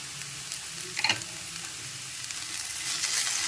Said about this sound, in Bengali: এখন সব কিছু একসাথে নেড়েচেড়ে ভালো করে মিশিয়ে নিতে হবে